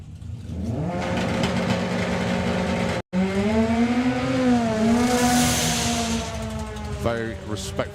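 A drag racing car at the Doorslammers event launches and accelerates, its engine rising in pitch as it pulls away through the gears, heard under a commentator's continuous talk.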